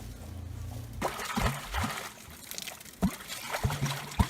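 Water trickles and gurgles weakly from old pipes fed from a creek for cattle in a Utah canyon, a thin uneven dribble with intermittent low bubbling knocks, heard close outdoors without speech.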